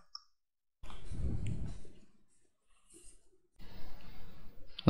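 A few mouse clicks on the pen tool in Adobe Acrobat, spread out and soft, with quiet breaths and background rustle between them.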